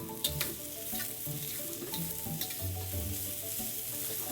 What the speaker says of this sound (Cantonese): 炒香嗰啲洋葱嗰啲葱先